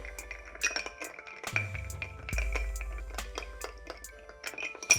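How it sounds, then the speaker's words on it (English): Ice clinking against glass as a Negroni-style mix of sweet vermouth and Campari is stirred to chill it, a run of close, bright taps and chimes with a low hum underneath. "We're gonna add in our rock of ice, get a nice stir to chill it."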